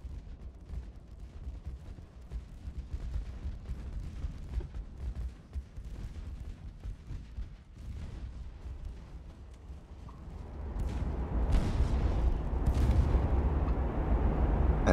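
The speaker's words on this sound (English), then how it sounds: "The amount of gunfire." Naval gunfire in the video game Ultimate Admiral: Dreadnoughts, a dense run of distant booms and cracking salvos over a low ocean rumble, swelling louder and fuller toward the end.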